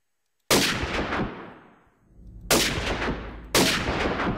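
R700 rifle in the Minecraft Flan's mod video game, three loud, close synthetic gunshots, the first decaying into a long echoing tail before two more shots follow in quick succession.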